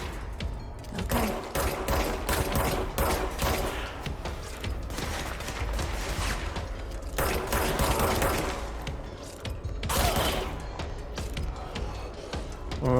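Rapid automatic weapon fire in the video game Control, loud bursts rattling on and off over a busy game soundscape with short pauses between volleys.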